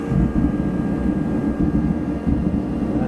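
A Dewalt DXH215HD 135,000 BTU portable diesel heater running, a steady close roaring rumble with a constant blowing rush and no pauses.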